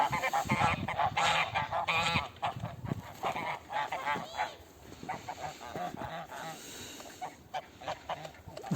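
A flock of geese honks close by in loud, overlapping calls that keep going throughout and ease off slightly toward the end.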